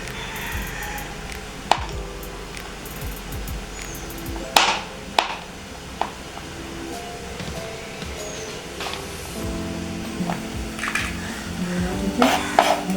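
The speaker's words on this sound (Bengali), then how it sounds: "এইভাবে সাবানগুলো একেবারে কুচি কুচি করে নেবো সব" Soap bars are cut into small pieces inside a bowl, giving irregular clicks, taps and scrapes of a blade against the bowl, close by, with quieter gaps and a busier clatter near the end.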